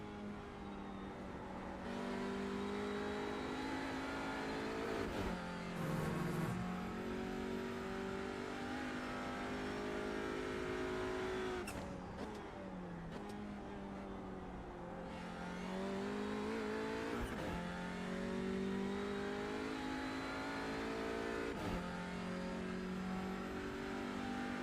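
Touring car engine in iRacing at Oulton Park, revving steadily through the gears across a full lap, pitch rising and dropping with each shift and corner, loud and continuous with no talking.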